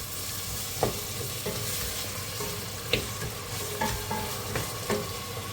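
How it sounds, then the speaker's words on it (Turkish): Charleston and kapya peppers sizzle in a pan while being stirred, a continuous frying hiss broken by several sharp scrapes and clicks of the spoon against the pan, close up and with no talk. "Charleston biberle kapya biberi. Onu da koydum. O da birazcık kavrulsun."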